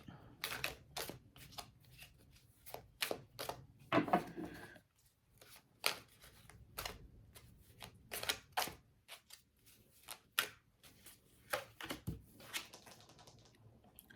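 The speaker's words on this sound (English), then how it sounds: "I'm so used to shuffling that sometimes I don't even know when to stop." Tarot cards being shuffled in quick riffling bursts, stopping and starting, close up and fairly quiet, with a few clicks between.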